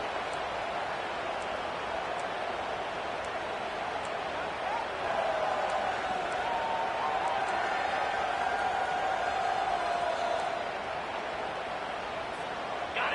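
Dense stadium crowd roaring throughout a college football game in the fourth quarter, a steady broadband wash that swells louder midway, with a commentator's voice running underneath.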